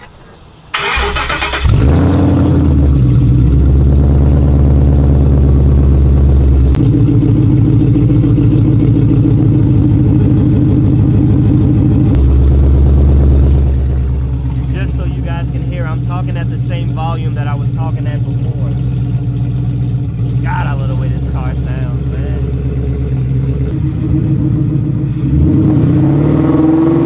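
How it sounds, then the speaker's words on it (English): A car engine cold-starts, cranking and catching, then settles into a loud, steady idle with a brief dip and restart, while people talk over the rumble. "told you guys I was gonna give you guys a cold start"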